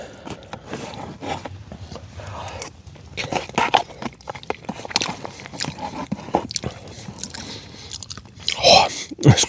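Someone eats a spicy beans and rice camp meal outdoors at a summit wild camp, with close, irregular chewing, biting and spoon scraping sounds.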